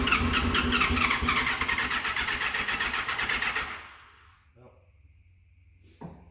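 A barn-find motorcycle, an FJ1100 or GL1200 with a weak battery, cranks loudly in a rapid rhythmic churn for about four seconds without catching, then stops, leaving a near-silent pause and a faint clatter at the end.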